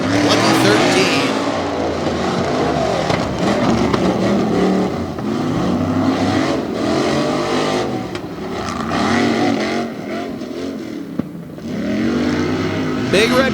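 Monster trucks racing in the Tough Trucks Challenge finals at Bloomsburg, Pennsylvania, with continuous loud engine roar and revving, surging and dipping throughout, under a constant crowd and announcer din.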